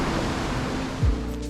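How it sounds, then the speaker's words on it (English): A river rushes loudly beside a boardwalk, a dense continuous roar of water filling the whole moment with no pauses, close and steady. "the rushing water is quite loud"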